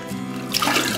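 Liquid pours from a torn-open urinary catheter bag, a close, short splashing trickle that grows louder partway through.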